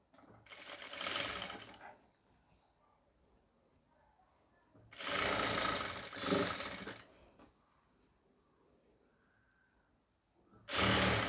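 Sewing machine stitching piping onto a nighty neckline, three separate bursts of rapid whirring stitches, close and clear, with quiet pauses between them.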